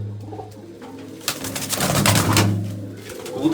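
A pigeon, a female from a Punjabi keeper's flock kept for gifting in pairs, coos in soft, rolling low notes close to the microphone, with wing flutters and scuffling rising in the middle.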